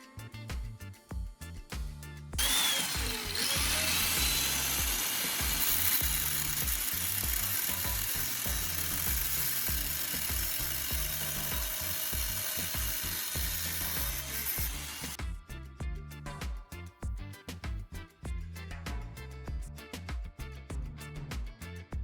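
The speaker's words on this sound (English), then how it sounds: "this time we'll cut along the mark line" A saw cutting steadily along a marked line through metal for several seconds with a continuous rasping grind, preceded and followed by quieter clicking handling noises.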